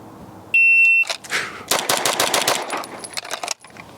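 A Glock 34 pistol fires a fast string of shots in a bill drill, the cracks coming in quick succession just after a shot-timer beep, close and loud.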